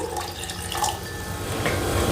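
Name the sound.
pouring two cups of water into mixer jar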